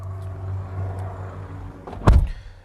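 Door of a Ford Kuga ST Line X Edition plug-in hybrid opening as someone gets in, a short sharp clunk near the end following a low steady hum, close up with no talk.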